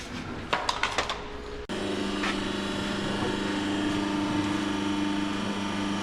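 An Audi A7 3.0 TDI with a stage 1 map, DPF delete and a custom exhaust runs at a steady, close idle drone, preceded by a few sharp metallic clanks.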